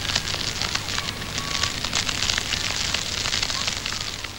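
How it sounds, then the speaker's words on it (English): Overblown crackling vinyl noise fills an electronic music track, a loud, dense, continuous crackle and pop like fire or heavy rain, with a faint tone threading through it. "The track consists of this looping synth melody playing over what sounds like some overblown crackling vinyl noise."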